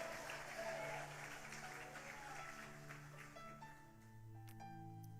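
A church congregation claps together in sustained applause, a dense wash of hands that fades as music with a steady organ-like tone carries on beneath.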